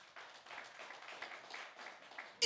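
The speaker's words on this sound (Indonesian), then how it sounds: "Kasih tepuk tangan bagi Tuhan." A church congregation applauds during a worship service, a soft, steady patter of many hands clapping at a distance, fairly faint throughout.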